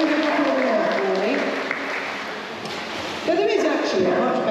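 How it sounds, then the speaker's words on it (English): An audience at a sea lion show at Knowsley Safari Park claps in a steady, broad wash of applause. A presenter's amplified voice talks over the clapping, which swells again near the end. "Again, give him a large hand of applause."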